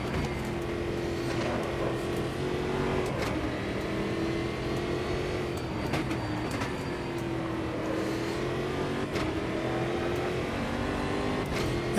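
A race car in the Automobilista 2 sim racing game drones steadily through laps, its engine note rising and falling with shifts and corners. It sounds loud and continuous, with no speech.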